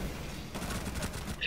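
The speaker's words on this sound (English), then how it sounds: "He's shooting over here." Rapid gunfire in Rainbow Six Siege crackles in a quick cluster of shots, fairly close, over steady game background noise.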